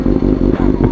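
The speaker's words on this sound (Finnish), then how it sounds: "Pistä bemari vähän käyntiin, kuunnellaan miltä kuulostaa." Close and loud, a BMW S1000RR motorcycle engine runs for under a second, a deep throbbing rumble with a slight pulsing rhythm.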